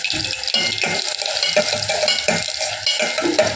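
Garlic sizzles steadily in oil in a pan while a utensil stirs and scrapes, close and fairly loud, with no talking.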